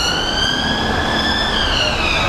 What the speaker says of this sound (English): it doesn't actually block out the ambulance noise